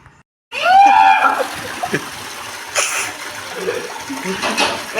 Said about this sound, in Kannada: ಅಡ್ಬೋರೇನು ಎಷ್ಟು ನೀರು ಬರಾಕತ್ತ ನೋಡ್ರಿ ಭಾಳ ಅಂದ್ರೆ ಭಾಳ ಭಯಂಕರವಾದ ನೀರು ಬರಾಕತ್ತ ನೋಡ್ರಿ